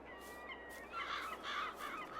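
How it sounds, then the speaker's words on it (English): A crow in the video game Farming Simulator 22 gives a run of several rough caws in a broken rhythm, faint and distant over a soft ambient background with no talk. "Get out of my field, Crow."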